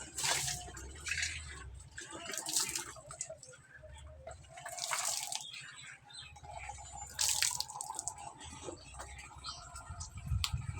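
Water runs and splashes steadily from a tap while a child's hair is washed, a close continuous stream with bursts of heavier splashing as it hits the head and basin.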